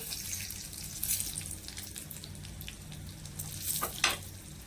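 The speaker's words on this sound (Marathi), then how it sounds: "आता तेल चांगलं गरम झालं यामध्ये ना राई घालूया म्हणजे मोहरी घालायची जिरं घालूया कढीपत्ता घालूया" Mustard seeds, cumin and curry leaves crackling in hot oil for a tempering, a steady close sizzle with scattered sharp pops and spits that grow louder near the end.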